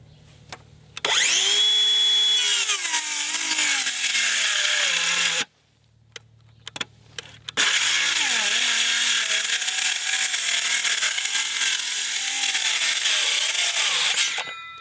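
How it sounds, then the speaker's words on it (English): Circular saw on a DeWalt Power Stack battery rips a whole board lengthwise: a loud, close whine under load that drops out once partway through, followed by a few brief clicks, then cuts steadily again to the end. "I'm gonna follow this side of my cut on this saw, and I'm gonna try to rip this whole board."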